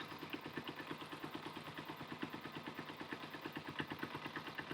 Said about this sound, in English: Idle's slowing down a little bit, so we kind of want to go back the other way where it sounds a little happier.